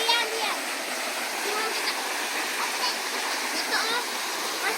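Rushing water from a long waterfall roars continuously as a broad, steady wash of noise, close and loud throughout.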